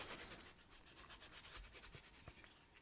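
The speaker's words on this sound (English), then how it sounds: "I'm going to clean this up with some Scotch-Brite as always." A Scotch-Brite pad scrubs the body of an old El Camino car in quick back-and-forth strokes, a faint, close, rhythmic rubbing that stays steady for a few seconds without talk.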